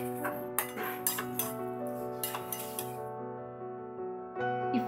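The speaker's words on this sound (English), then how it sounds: "Now I will add 1/2 cup of chopped spring onions and mix well" Utensils clink and scrape against a pan while chopped spring onions are mixed into veg manchurian, a series of close metallic taps and stirring sounds over a steady low background hum.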